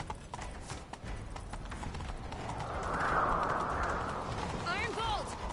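Horse hooves clip-clop at a steady gallop in The Witcher 3, continuous and fairly close, with a mid-range rushing swell and a brief high whinny-like warble near the end, and speech around the galloping.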